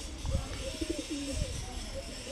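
Soft, low pigeon coos repeat in short phrases against a murmuring background, with a few faint thumps and shuffles nearby.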